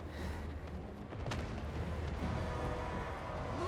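Slayer Pirates firing into Peasant Spearmen during a Warhammer battle against Cathay, a low rumbling barrage of distant shots and booms blending into continuous battlefield din, faint throughout.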